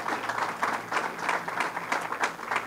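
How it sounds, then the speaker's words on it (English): A crowd applauds steadily at a college event held in honour of Howard Zemsky's leadership, the dense clapping sustained and even throughout, with no pause and no voices above it. "let's give Howard Zemsky a round of applause for his great leadership"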